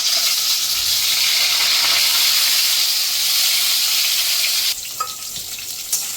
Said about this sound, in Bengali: এবার পটলগুলো আমি ছেড়ে দিচ্ছি।